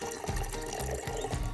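Seawater poured into a jar, a short steady splashing fill with gurgling as the level rises, close and clear with no talk.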